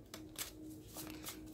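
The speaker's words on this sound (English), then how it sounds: "look at shuffling the cards first" Tarot cards being shuffled by hand, a few soft riffling bursts close by, quiet and alone with no talking.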